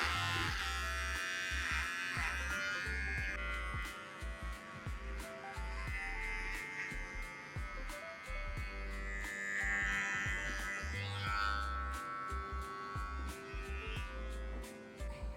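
Before hair transplant surgery, an electric shaver buzzes steadily over a head in close, continuous passes, its pitch shifting slightly as it moves across the scalp, with no one talking.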